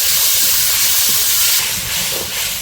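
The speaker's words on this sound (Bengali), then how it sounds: "এই যে তরকারি রান্না করার জন্য পেঁয়াজ আর কাঁচামরিচ দিয়ে দিল।" Onions and green chillies hitting a hot frying pan in a village kitchen, giving a loud, steady, close sizzling hiss that eases slightly toward the end, with no talking.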